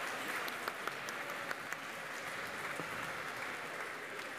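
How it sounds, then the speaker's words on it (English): During a children's Rosh Hashanah service in a temple sanctuary, the congregation claps after a story, a soft, steady patter of applause with occasional sharper individual claps, heard from a distance and fairly quiet. "Now I'll accept your applause."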